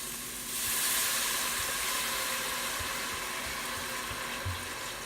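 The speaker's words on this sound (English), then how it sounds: "There goes half a bottle of red wine, and it's bubbling right away." Half a bottle of red wine hits a very hot pot after short ribs have been seared, giving a steady loud hiss and sizzle that bubbles on continuously, close up with no talking.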